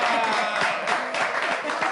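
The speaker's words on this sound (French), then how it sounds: "Applaudissez Suzanne." A live audience claps for Suzanne during a French-language singing and cash game show, a dense, steady patter of many hands lasting throughout with a slight rise and fall and voices mixed in.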